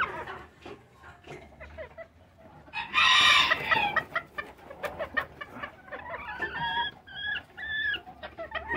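Chickens and a rooster at a poultry breeding farm cluck and squawk close by, with one loud crow in the middle and more calls after it; a voice speaks briefly.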